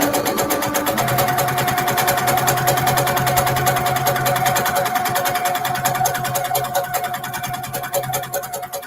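A sewing machine stitches steadily and fast with a dense, even mechanical chatter, close and loud throughout, slowing slightly toward the end.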